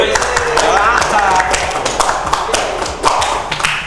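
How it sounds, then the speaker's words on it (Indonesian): An audience claps at a live music show, many hands striking in a lively, uneven patter that stays loud and continuous, with voices and stage sound mixed underneath. "Boleh minta tepuk tangannya sekali lagi"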